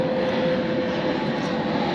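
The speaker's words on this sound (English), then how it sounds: "airplane's going by" An airplane flying overhead in a workshop setting, a steady broadband roar with a faint sustained hum that holds at a constant moderate level throughout.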